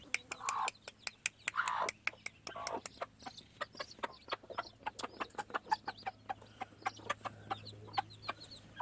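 A gamefowl hen with her freshly hatched chicks makes soft clucks and many rapid, high peeping chirps, quiet and close, with a low steady hum underneath.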